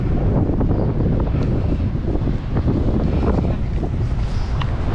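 Strong wind at Portreath buffets the microphone in a continuous heavy roar. It stays loud and steady throughout, with possible surf mixed in.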